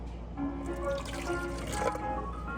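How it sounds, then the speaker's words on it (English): Hot water from a kettle poured into a cup to fill up tea, a short steady trickling splash close by, alone without talk. "So we're going to add some more water to fill that up to help separate the colors."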